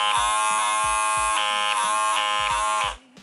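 A battery-powered vacuum blackhead remover gives off a loud, steady electric buzz with rhythmic pulsing that cuts off abruptly near the end.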